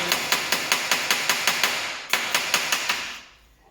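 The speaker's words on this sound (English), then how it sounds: "When you've been hammer forming" Rapid, evenly spaced metallic hammer blows ring out while hammer forming a sheet metal Ford Capri kick plate, a brief pause, then another run of strikes that fades away.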